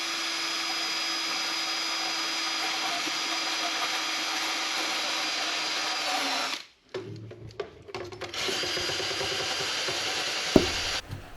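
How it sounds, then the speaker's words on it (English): Wire brush on a drill stripping rust from a Peugeot Boxer van body, a steady loud whirring grind that runs continuously, cuts out briefly, then resumes with a short knock near the end. "it's now time to start stripping back some of this rust and the little spots that we've got"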